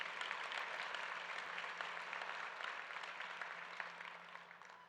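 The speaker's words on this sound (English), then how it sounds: "Would you give them a hand clap, please?" Steady applause from an audience, a dense wash of clapping that holds even throughout and fades slightly toward the end.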